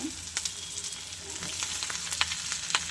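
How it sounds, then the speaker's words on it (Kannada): Tomatoes frying in a pan for avarekalu sambar give a soft, steady sizzle close by, with faint crackles and occasional stirring clicks and no voices. "ಇವಾಗ ಈ ಟೊಮ್ಯಾಟೊ ಹಾಕ್ಕೊಂಡು ಹುರ್ಕೊಳ್ಳೋಣ"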